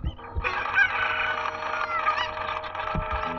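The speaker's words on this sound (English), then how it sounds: "Cuckoos first." Cuckoo chickens in the video game The Legend of Zelda: Ocarina of Time give a drawn-out crowing call with clucks, clear and close, followed by a short cluck near the end.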